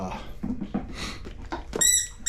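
Short dog vocalizations, whines and yelps close by, ending in a high, squeaky whimper.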